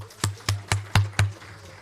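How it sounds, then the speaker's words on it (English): Five loud, evenly timed unison claps ring out at a conference on higher education and climate, welcoming guests from Rwanda, followed by a brief quiet tail over a faint hum. "Guests from Rwanda, let's clap for them."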